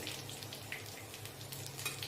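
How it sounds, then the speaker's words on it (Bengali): Chicken pieces fry lightly in a pan with a faint, steady sizzle and occasional soft stirring clinks, quiet and close. "দেখুন চিকেনগুলো আমার ভাজা হয়ে গেছে আমি বেশি ডিপ ফ্রাই করলাম না আমি হালকা ফ্রাই করব"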